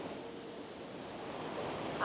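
Big waterfall near El Chalten throwing off mist, a steady broadband roar of rushing water heard close and continuous, with no voices.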